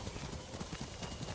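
Horse hooves clip-clop in a quick, steady rhythm as a horse is ridden in the video game Ghost of Tsushima, the hoofbeats fairly faint and close against a soft background.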